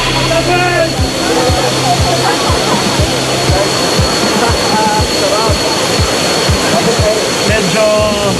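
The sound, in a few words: waterfall during rappel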